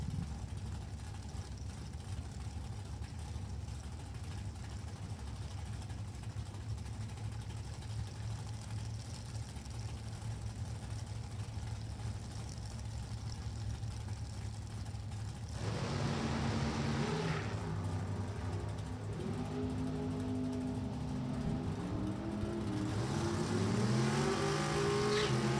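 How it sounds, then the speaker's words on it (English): A 1967 Chevrolet Nova with a 632 cubic inch big-block engine at a drag strip: after a long stretch of low ambient rumble, a deep engine roar rises and revs up, loud and near, building toward the end. "Unique paintwork, 67 model Chevrolet Nova, 632 cubic inch big block"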